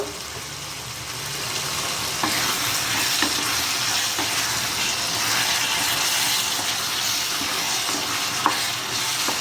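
Mutton frying in a pan with a spoonful of soy sauce gives a steady, loud broadband sizzle throughout, with a few faint clicks scattered across it and no talking.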